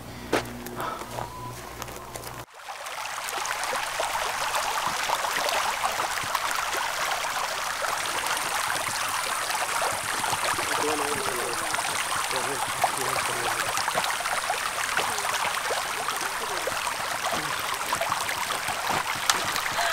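A stream of running water rushes in a steady, close hiss that begins abruptly after a brief quieter opening and continues evenly to the end.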